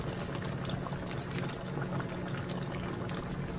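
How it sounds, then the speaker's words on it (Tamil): Tomato kurma gravy bubbling vigorously in a pot, a dense, steady simmering hiss and burble up close with no voices. "எப்படி கொதிச்சுட்டு இருக்கு பாருங்க, சலசல சலன்னு கொதிக்குது"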